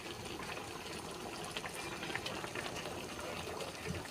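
Tilapia simmering in coconut milk in a pot, a steady soft bubbling and crackling boil with occasional small pops, heard close and without talk.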